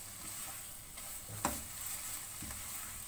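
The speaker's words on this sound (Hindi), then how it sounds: "अच्छे से मिक्स कर देते हैं।" Bottle gourd halwa is stirred in a pan over a low flame, a soft sizzle underlying a couple of spoon scrapes and knocks, quiet and close, with no talking.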